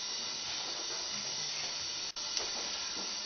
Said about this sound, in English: You know, it's sizzling away nicely there.